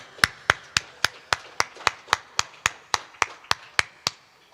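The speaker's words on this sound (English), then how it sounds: "Can we give them a hand of applause?" Slow, evenly spaced claps, about fifteen distinct sharp strikes, sound like a single person or a small group clapping at a farm worker of the year gala. Each clap is crisp and close, with quiet gaps between and no talking.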